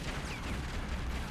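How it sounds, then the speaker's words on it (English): Grenade explosions in the game Tomb Raider Legend: a rough burst of blasts and crackling debris, dense and close, filling the moment without talk. "Lots of grenades going on here."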